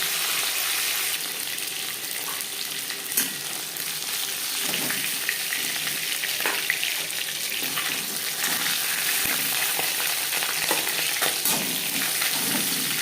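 Fish sizzles steadily in a hot pan, a continuous oily hiss with scattered small crackles and no voices.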